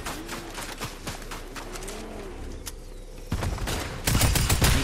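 Gunfire in the video game Fortnite, a series of sharp shots in quick bursts, some distant and lighter, then louder, denser volleys near the end, with no talking.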